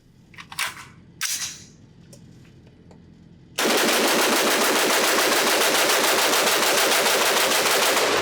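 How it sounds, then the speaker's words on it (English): An HK MR27 rifle, a civilian M27 IAR, emptying a 30-round magazine in rapid fire at a range: a few quiet handling clicks, then a loud unbroken burst of fast shots that runs to the end. "I want to do a 30-round mag dump with this because this trigger is fast"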